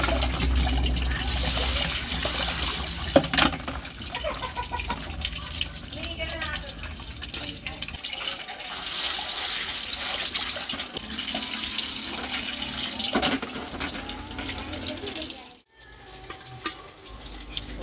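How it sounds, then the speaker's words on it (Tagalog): Running tap water over pork trotters being washed in a kitchen: steady splashing and trickling with handling noises, a brief cutoff near the end, while people talk over it. "at ito po ay atin ang hugasan"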